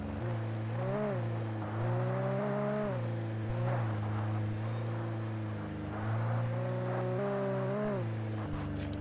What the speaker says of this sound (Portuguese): Um barulho estranho desse carro, né, mano? O motor deve estar ruim já.